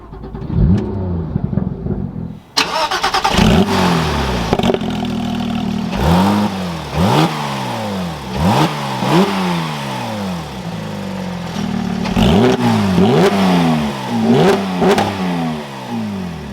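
A manual 991.2 Porsche 911 GT3 cranks and fires up, then its engine is blipped in a series of sharp, loud revs that rise and fall back toward idle, heard up close with no talking.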